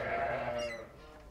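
Lambs bleat in a farm pen of sheep, one soft wavering bleat heard fairly faint and close, with quiet pen noise around it.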